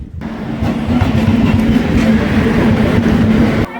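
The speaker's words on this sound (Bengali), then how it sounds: "গাইস ফাইনালি ট্রেনটা ঢুকছে স্টেশনে। এই দেখো যে ট্রেনটা আসছে আস্তে আস্তে।" A train pulls slowly into a station platform with a loud, steady rumble and a low drone that holds for several seconds, then cuts off.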